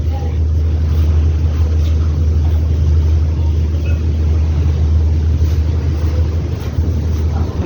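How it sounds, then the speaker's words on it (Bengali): Steady, loud drone of the Caterpillar engine on the M Khan 7 passenger launch cruising through thick fog on the river, a continuous low rumble with wind buffeting throughout and no break. "খান সাতলঞ্চের ক্যাটারপিলার ইঞ্জিনের যে গতি, সেটা প্রদর্শন করছে কুয়াশার ভিতরেও"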